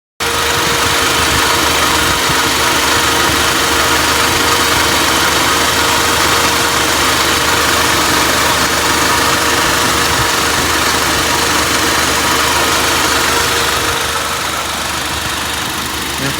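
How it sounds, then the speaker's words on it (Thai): A 2013 Honda Accord 2.0 EL engine idling steadily and loudly up close, a smooth continuous rumble with a low hum that holds even for the whole stretch, no voices. "ฟังเสียงเครื่องไปด้วยนะครับ"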